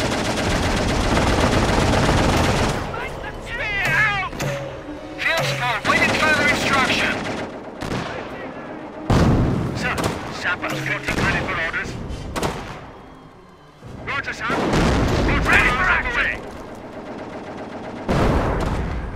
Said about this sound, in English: All right, Jerry's firing!